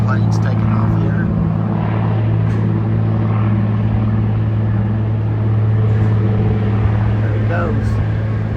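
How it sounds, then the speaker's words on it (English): Floatplanes take off from the water on an Alaska sea trip, their propeller engines making a steady, loud, low droning hum that stays constant throughout. "And got some planes taking off here."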